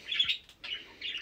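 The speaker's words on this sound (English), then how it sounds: "ignore my birds, I'm so sorry" Pet birds chirping indoors, a few short high tweets in quick bursts, fairly faint and close, with no talking over them.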